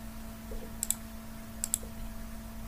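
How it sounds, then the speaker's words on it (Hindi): Two pairs of crisp computer keyboard clicks, including a press of the Enter key during CNC bangle design work in CorelDRAW X7, close and sharp over a steady electrical hum. "फिर एंटर दबाओ"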